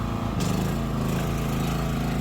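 A Champion C3200G hybrid petrol generator rated 2.8 kW runs steadily at close range while carrying a 3 kW load. Its engine drones continuously and loudly, with a heavier, lower tone setting in after a brief change early on.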